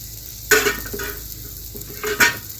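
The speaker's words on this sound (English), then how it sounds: "let's pull these asparagus up to the side here a little bit." Asparagus sizzling on a hot discada while a utensil scrapes and pushes it aside, two sharp scraping strokes over a low steady sizzle.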